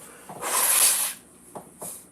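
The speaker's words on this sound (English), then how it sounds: "I have to blow my nose" Someone blows their nose with one long, breathy, hissing blast, followed by two short sniffs, close to the microphone with no talking.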